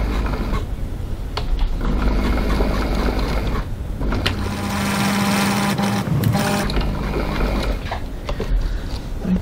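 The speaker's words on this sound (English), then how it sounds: "we're top stitching down this right hand side to secure your card pockets" Sewing machine top stitching down the side of a wallet to secure the card pockets, a loud continuous mechanical whir and rattle running throughout.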